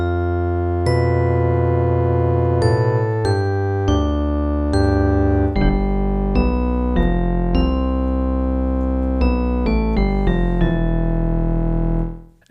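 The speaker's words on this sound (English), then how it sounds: "So now we have the sample of the Glockenspiel and we have the drift synthesizer" Glockenspiel sample layered with a Drift synthesizer in Ableton, playing a melodic sequence of bright, bell-like notes over sustained synth tones, loud and continuous for about twelve seconds before an abrupt fade.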